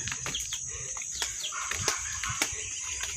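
Chickens cluck and flutter nearby, with scattered scratches and wing flaps over a steady hiss of insects or background noise; no talking.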